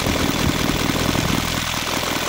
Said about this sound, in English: on my engine right here, it runs like this with 3 turns from fully closed